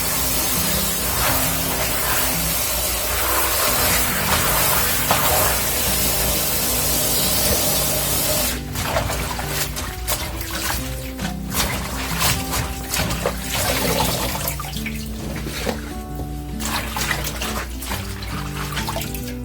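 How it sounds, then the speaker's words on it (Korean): Tap water pours steadily onto salted green onions for spring green onion kimchi, rinsing the salt off in a close, loud rush that turns splashier and more broken partway through as the onions are handled under the stream. "소금기만 깨끗하게 씻어내는 거라고 생각하시면 돼요"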